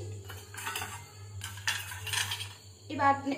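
Four small bowls for rava idli are set out on a kitchen counter, with a few light clinks and clatters of crockery against a quiet hum.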